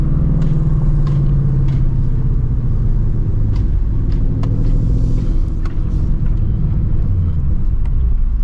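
Deep, steady exhaust rumble of a supercharged Shelby GT350 with its resonator removed, idling close by, with occasional burbles and pops over the low drone, no talking.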